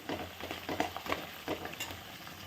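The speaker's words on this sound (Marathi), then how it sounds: "कडेने तेल सुटलं मसाला छान फ्राय झाला" Masala spices frying in hot oil in a home kitchen pan, with steady close sizzling and soft crackles that pop up now and then as the mixture is stirred.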